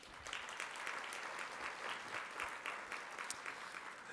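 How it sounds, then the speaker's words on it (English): A conference audience at a plenary session gives a steady round of applause. It is fairly faint and distant and continues evenly throughout. "Please join me in giving them a round of applause."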